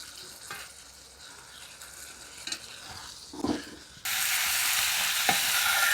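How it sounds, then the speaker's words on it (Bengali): Homemade tofu sautés with spices in a little oil, with soft stirring and scraping for a few seconds. A loud, steady frying sizzle then bursts in and holds to the end. "খুব ভালোভাবে কষিয়ে নিয়েছি"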